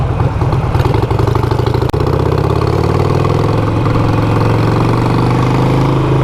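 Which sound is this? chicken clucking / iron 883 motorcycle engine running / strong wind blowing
iron 883 motorcycle engine running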